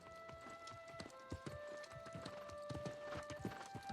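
Horse hooves clip-clop in a quick, steady galloping rhythm in the New World video game, fairly close, over a sustained musical tone.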